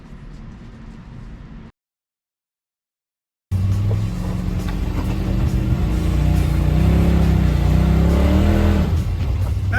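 Off-road vehicle engine revving hard while climbing a waterfall, loud and sustained with rising and falling pitch, cut by a short silent gap before the revving resumes and grows stronger.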